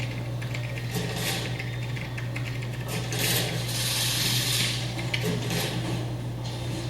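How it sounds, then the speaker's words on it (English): Office background noise with a printer, typing and clanking, a low steady hum under dense clicking, rattling and mechanical clatter that swells and fades in bursts, with no one talking. "these are what you'd hear in a standard office environment"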